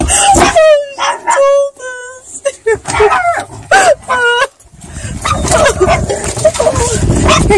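Puppy sounds: high whimpering yips and short barks, close and in bursts, followed by rustling and voices talking.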